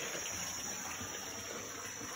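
Water pours steadily from a spout into a backyard pond at late afternoon, a constant broadband gushing and splashing, close and even, with no talk over it.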